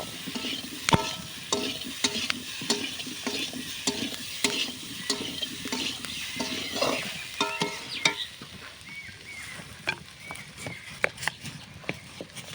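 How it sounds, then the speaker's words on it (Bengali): Food is frying and being stirred in a pan over an outdoor clay stove in hot weather, with a continuous sizzle and repeated sharp scrapes and knocks of the spoon against the pan. "ভালো করে নাড়িয়ে নেব।"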